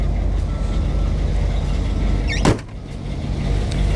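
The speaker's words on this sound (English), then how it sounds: "Again, doors open and close nice." A door on a dark blue 1947 Ford Deluxe Coupe hot rod swings and shuts once with a single sharp close, set against a steady low engine rumble that keeps running underneath.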